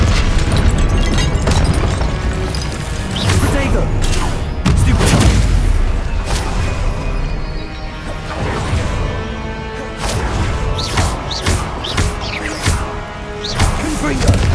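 Confringo blasting spells exploding in Hogwarts Legacy, repeated loud booms and crashes with whooshes through a dense, continuous battle din, with voices speaking over it.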